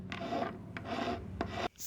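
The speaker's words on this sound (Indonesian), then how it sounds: "Lanjut aku finishing pakai amplas halus ini." Fine sandpaper is used wet on a handmade wooden prop of a Solo Leveling dagger, giving three steady rasping strokes. The scratching is close and loud, with short pauses between strokes.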